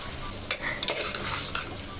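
A spoon stirring ground paste into a pot of mutton soup, with a few sharp metallic clinks and scrapes over a low sizzling bubble, close and fairly loud.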